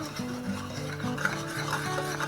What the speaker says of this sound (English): Now it's boiling, you want to stir constantly